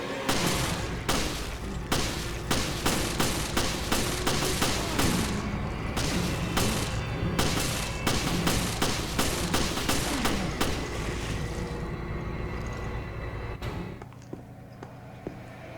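Rapid volleys of gunfire in the video game Resident Evil Revelations, loud sharp shots repeating in quick bursts for several seconds before trailing off into quieter game ambience.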